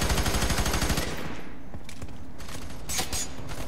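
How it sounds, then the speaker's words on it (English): Video game gunfire in F.E.A.R. 3, opening with a rapid burst of machine-gun fire, then scattered single shots and short bursts over an ongoing rumble. "I see bullets flying at us"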